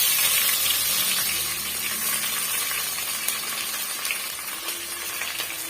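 About 400 grams of finely chopped onions fry in hot oil in a pot for chicken biryani, giving a steady close sizzle that eases off slightly as they cook, with no voices.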